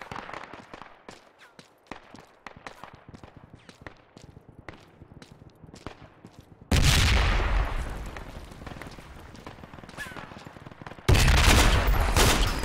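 Distant crackling volleys of rifle fire pop sporadically across a battlefield in the military shooter Project Reality, followed by two loud, close sustained bursts of gunfire with heavy rumbling.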